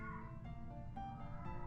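A pet cat meows indoors, a close, drawn-out tonal cry that rises and shifts in pitch over under two seconds, fairly quiet and alone.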